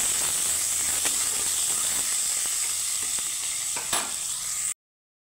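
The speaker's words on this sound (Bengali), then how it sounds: "দিয়ে দিলাম পেঁয়াজটাকে আমি একটু হালকা করে ভেজে নেব" Onion frying lightly in a pan for a bata fish curry, a continuous soft hiss and sizzle with occasional small clicks of stirring, steady and moderately quiet until it cuts off abruptly near the end.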